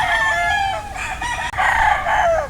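Gamecock rooster crowing loudly and close, one long drawn-out call with a brief break midway, over a steady low background hum.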